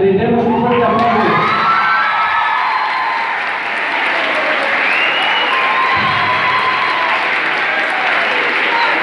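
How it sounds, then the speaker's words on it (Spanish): An audience applauding medal-winning students, with loud, sustained clapping from a large crowd close by, mixed with cheers and whoops throughout. "Por favor, pónganse de pie para que les brindemos un fuerte aplauso."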